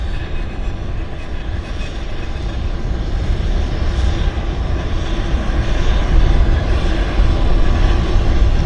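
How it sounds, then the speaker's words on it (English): A Global Express corporate jet departing Vancouver Airport, heard as a steady, broad, loud engine roar that swells gradually over several seconds with no talk. "There's a corporate aircraft going out as well. Looks like a big Global Express."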